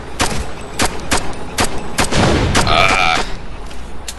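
Pistol fire in the video game Ghost Recon Future Soldier: a string of sharp, loud single shots spaced irregularly, followed by a brief ringing, high-pitched flashbang tone, all set against steady game background noise.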